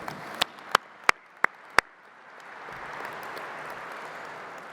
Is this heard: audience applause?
yes